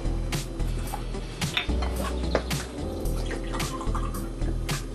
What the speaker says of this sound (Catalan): Omplim un got amb aigua